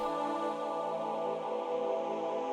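A synthetic choir patch from the Expand plugin holds a dense, sustained chord with its middle notes left at their original octave, steady and unbroken with no other sounds.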